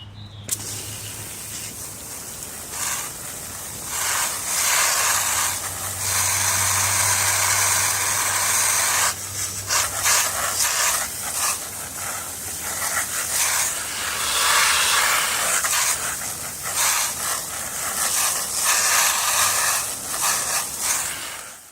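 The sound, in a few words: garden hose spraying water on a degreased chain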